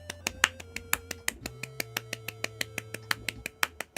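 One person claps sharply and steadily in time with a backing track of music, about five crisp claps a second, close and distinct over low sustained tones.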